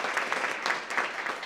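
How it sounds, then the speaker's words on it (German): A studio audience at a sports talk show claps briskly in a short, dense burst of steady applause with no voices. "das ist ein Applaus wert"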